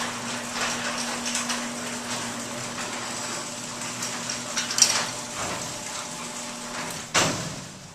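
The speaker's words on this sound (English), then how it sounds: "Main door is going up." A garage door opener raises the main garage door with a continuous motor drone and rumble, a few rattling knocks along the way and a sharp clunk near the end.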